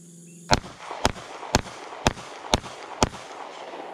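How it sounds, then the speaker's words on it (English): Six slow, evenly spaced shots from a DiamondBack DB9 Gen4 9mm pistol at an outdoor range, fired into a hill, each a sharp loud crack with a short echo tail and roughly half a second between them. "I'm going to shoot it slowly."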